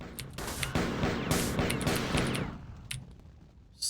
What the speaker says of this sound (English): these dual pistols are the best